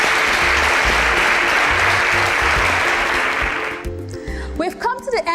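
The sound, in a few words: audience applause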